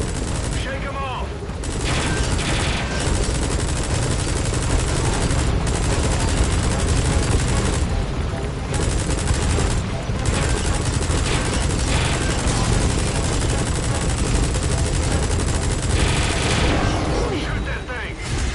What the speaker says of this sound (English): Use the chopper's mini gun. Shake them off.